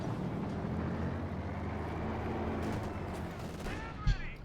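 Sustained battle din from Company of Heroes 2, a World War II strategy game, with dense continuous gunfire, a machine gun ripping at advancing infantry, and a sharp louder burst near the end.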